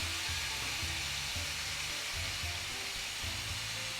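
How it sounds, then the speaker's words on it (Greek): Pork sizzles in a pan over high heat, a steady close hiss of frying meat that holds evenly throughout, with no voices. "Τώρα που αρχίζει και τσιτσιρίζει λίγο το κρέας"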